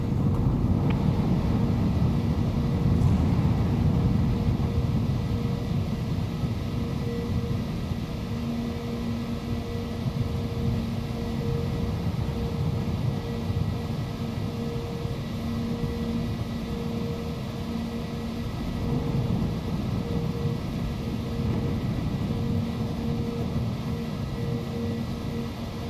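An Air India airliner taxiing to gate 52 via taxiway Alpha in Microsoft Flight Simulator 2020 gives a steady low engine hum and rumble with faint tonal whine, continuous and unchanging throughout.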